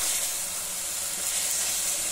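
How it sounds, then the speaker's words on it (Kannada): A ground paste of coriander leaves, green chili, ginger and garlic sizzles steadily in hot oil for coriander rice, a continuous close hiss with no pauses and no voices. "ಕೊತ್ತಂಬರಿ ಸೊಪ್ಪು, ಹಸಿಮೆಣಸಿನ್ಕಾಯಿ, ಶುಂಠಿ, ಬೆಳ್ಳುಳ್ಳಿ ರುಬ್ಕೊಂಡಿದ್ದು ಈ ಮಸಾಲೆ ಚೆನ್ನಾಗಿ ಎಣ್ಣೆಯಲ್ಲಿ ಫ್ರೈ ಆಗಲಿ"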